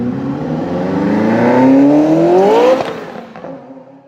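A Ferrari F40 sports car engine revs up, its pitch climbing steadily in a loud rising whine before cutting off sharply and settling into a lower, fading rumble with a few clattering bursts.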